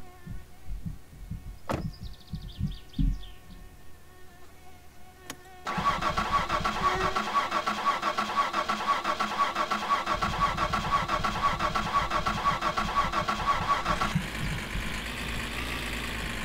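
A diesel van in the video game My Summer Car cranks with a few uneven starter turns, then catches into a loud, steady idle that runs close and alone with no talking, its tone shifting near the end.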